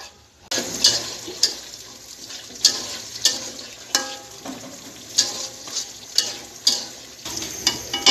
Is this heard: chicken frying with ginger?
yes